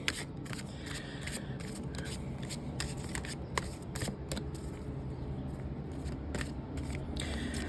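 Repeated crisp riffling bursts of cards being shuffled, close up, over a steady low background rumble.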